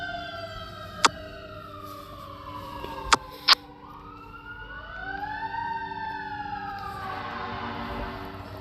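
A fire truck siren on a street, wailing in long rising and falling sweeps that swell as it passes, broken by a few sharp clicks, with no voices.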